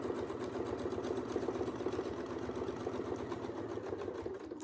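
A sewing machine stitches steadily along a Westalee ruler template, a continuous close motor whir with a fast, even needle rhythm throughout.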